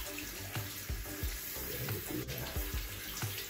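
Water runs from a kitchen faucet as small valve cartridge parts from a Delta single-handle faucet are rinsed, a steady close splashing hiss with irregular knocks and gurgles as the pieces move under the stream.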